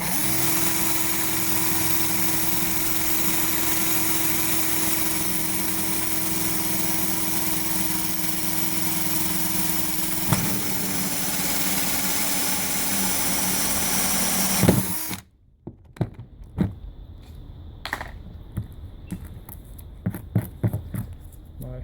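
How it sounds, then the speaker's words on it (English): A steady, loud mechanical whine of a drill boring into a plastic VW Golf Mk5 rear bumper drones for about fifteen seconds, then cuts off abruptly, followed by scattered clicks and handling noises. "Then we drill the hole."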